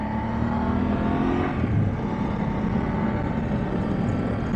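A BMW F850GS parallel-twin motorcycle engine rumbles steadily and close, a dense low drone that swells slightly around the middle and then holds at an even idle-to-cruise level throughout.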